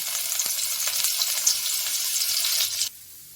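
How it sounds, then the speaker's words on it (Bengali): Cauliflower florets frying in hot oil for a Bengali cauliflower roast, a steady loud sizzle that runs for about three seconds and then cuts off abruptly. "তেল গরম হয়ে গেছে, আমি কপিটা এবার ভেজে নেবো, তার জন্য কপিটা দিয়ে দিচ্ছি"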